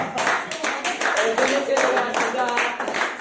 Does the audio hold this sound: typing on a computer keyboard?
no